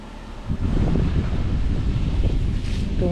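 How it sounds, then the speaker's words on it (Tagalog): Strong wind buffets the microphone in a steady, loud roar with gusty low rumbling throughout. "Malakas ng hangin, no?"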